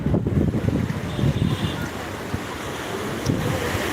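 Sea waves wash onto New Digha beach at high tide under cloudy, rainy weather, a loud continuous roar of surf mixed with strong wind buffeting the microphone.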